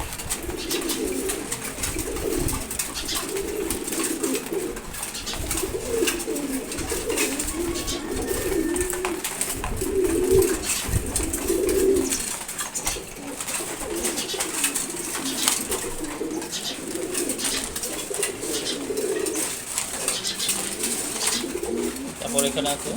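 Pigeons coo repeatedly at feeding time, a steady low burbling chorus that rolls on continuously with faint background noise throughout.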